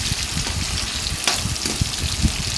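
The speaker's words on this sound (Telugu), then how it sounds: "ఇవి మొత్తం కూడా బాగా ఫ్రై అయ్యే విధంగా ఈ విధంగా నూనెలో వేయించుకోవాలి." Onion, green chillies and curry leaves fry in hot oil for a brinjal egg tomato curry, a close, steady sizzle with crackling pops and faint stirring, with no talking.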